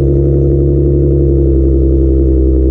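A 2024 Maserati Ghibli Modena Ultima engine hums loudly and steadily as the car drives off, a close, constant low drone.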